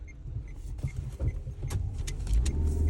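Inside a moving car, low engine and road rumble runs throughout with a few faint clicks and rattles, rising slightly toward the end.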